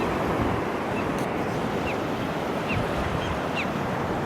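Night surf on a beach: a continuous broadband wash of breaking waves with wind rumbling over the microphone. A few faint high chirps come through in the background.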